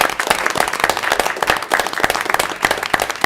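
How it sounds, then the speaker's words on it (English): An audience at a school board of education meeting applauds students and parents, a dense, lively burst of many hands clapping at once, loud and close, with no voices standing out. "let's give them another round of applause"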